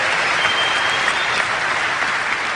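Audience claps in a steady, loud wash of applause from a packed room, continuous with no gaps.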